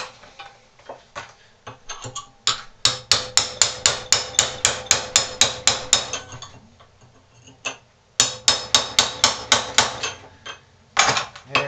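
Hammer blows driving a chisel through a steel spoon braced against a vise, a steady run of sharp metallic strikes about two per second, close and loud, pausing once before resuming at the same pace.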